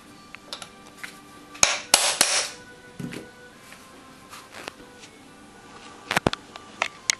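Several sharp metallic hammer whacks on a 9mm conversion kit part, spaced irregularly with a couple of louder clustered strikes and lighter taps between, close up with no talking.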